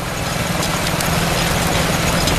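An engine runs steadily with a dense, even hum and rumble that fills the whole stretch, fairly loud and close, with no speech over it.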